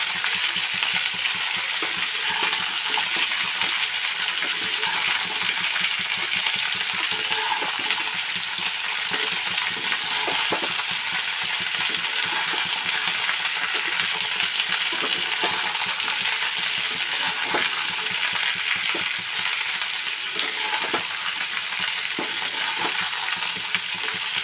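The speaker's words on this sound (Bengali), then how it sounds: "ফুলকপি আর আলুটা আস্তে আস্তে একটু নাড়াচাড়া করব।" Cauliflower and potato frying in a pan for a paneer curry, a continuous dense sizzle with occasional light clicks of a spatula stirring slowly, close and steady with no talk.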